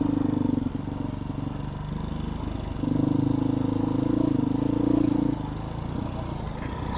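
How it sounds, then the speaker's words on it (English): A small dual sport motorcycle rides along steadily, its engine droning loud and close with a rise in pitch partway through, then easing off near the end. "Perfect sort of riding for these little sport bikes."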